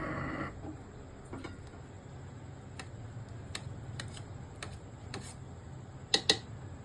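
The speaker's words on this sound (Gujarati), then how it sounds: "તો આપણે સૌપ્રથમ ગેસ ચાલુ કરીશું" A gas stove is switched on with a scattering of faint ticks and clicks, then two sharper, louder clicks close together near the end, against quiet room hiss.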